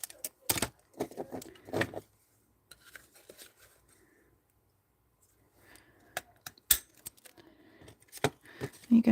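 Buttons being handled and turned over, giving sharp close clicks and clacks in scattered clusters, with a quiet pause in the middle and a few soft rustles.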